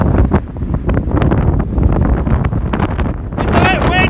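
Strong wind buffets the microphone on an exposed moorland path beside a reservoir, a loud continuous roar with gusty bursts throughout.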